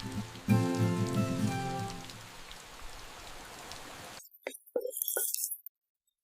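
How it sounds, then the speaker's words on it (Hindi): Rain pouring in a village setting, steady close patter on surfaces with tonal hum early on, then cutting to near silence with a few scattered drips and clinks. "गांव की बरसात का मजा ही अलग है।"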